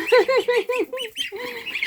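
Ducklings on a farm quacking in a quick series of short, nasal calls close by, followed by a couple of drawn-out calls, with a little background activity.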